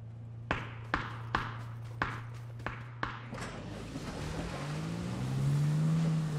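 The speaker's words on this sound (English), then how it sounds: "vehicle driving up behind me." A vehicle in the PUBG battle royale game approaches from behind, its engine drone swelling louder over the last few seconds after a run of sharp, evenly spaced clicks.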